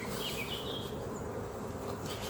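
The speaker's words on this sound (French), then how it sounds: "Donc les abeilles qu'on voit là, c'est tout simplement des pillardes" Robber honeybees buzzing around a hive, a dense steady hum of many bees close by with occasional individual bees whining past, no voices.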